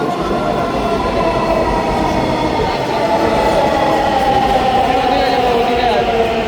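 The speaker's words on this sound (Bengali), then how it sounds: "মেট্রো রেলটি চলে আসলো" A metro rail train pulls into an elevated station, its steady loud rumble and wheel noise filling the platform throughout, with a rising whine of traction motors near the end.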